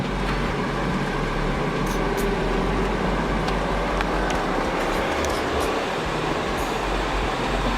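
A BMW 335i pulls hard on the freeway, its engine and road roar a loud, steady broadband rumble that holds for the whole stretch with no voices.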